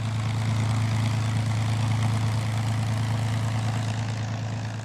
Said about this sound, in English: And it has a sound all of its own. There's no sound for like the P-51.